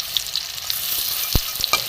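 Cauliflower stem finger pakoras fry in hot oil with a steady close sizzle and crackle, broken by a few sharp clinks and spatters toward the end; no voices.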